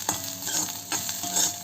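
Spices with turmeric and salt frying in a pan while being stirred, steady sizzling broken by a few quick scraping strokes, close and clear with no talking.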